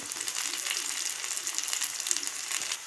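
Onions and green chilies fry in hot oil with a dense, bright crackling sizzle, close and steady for a few seconds, with no one speaking.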